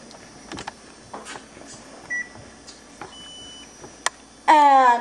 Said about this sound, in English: I'll turn off the timer real quick